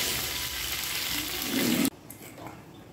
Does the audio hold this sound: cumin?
yes